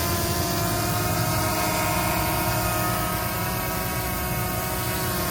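A steady, close whirring buzz of a small folding drone's propellers that holds even throughout, with a constant background hum and no voices.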